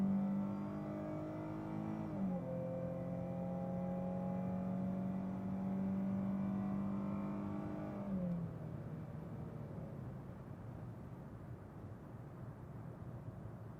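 Dodge Charger SXT with a new cat-back exhaust revving steadily, the engine note climbing and holding before dropping back to a lower rumble, heard from a distance at moderate volume.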